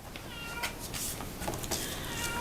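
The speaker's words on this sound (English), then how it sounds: "Sorry about the cat now in the background" A cat meows several times, fairly faint, against a steady background hiss.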